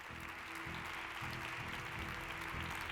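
An audience welcomes a panel of journalists with applause, faint, even clapping heard at a distance over a constant low hum and a buzzing tone.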